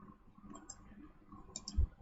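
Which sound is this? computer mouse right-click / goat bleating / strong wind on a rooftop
computer mouse right-click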